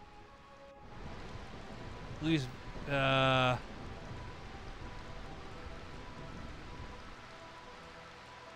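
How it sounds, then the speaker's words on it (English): Steady, soft rain hiss from Final Fantasy IX runs through the whole stretch, with a brief tonal game sound partway in and a short voice. "Can't stand all this rain."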